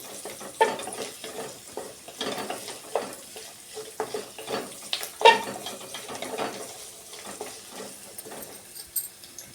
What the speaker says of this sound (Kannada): ಎಲ್ಲ ಬೆಳ್ಳುಳ್ಳಿ ಪಟ ಪಟ ಅಂತ ಉಬ್ಬಬೇಕು